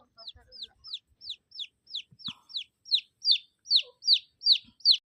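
A chicken gives a rapid, even series of about fourteen sharp, high calls that grow louder toward the end. A faint thump sounds in the background, and there is no talking.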